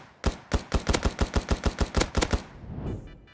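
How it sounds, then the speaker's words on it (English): Rapid burst of about a dozen evenly spaced pistol shots from the new SAP pistol in the video game Rust, sharp and close, followed by a brief mechanical rattle and fading tail, with no talking. "I actually like the new SAP sound."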